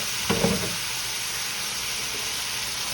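Potatoes frying in a pan for old-school corned beef hash, a steady broadband sizzle throughout with a brief louder stir or clatter near the start, no talking.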